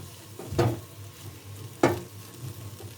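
Spoon stirring red poha with sugar and salt in a pan, two distinct scraping strokes a second apart over a low background hum, close and moderately loud.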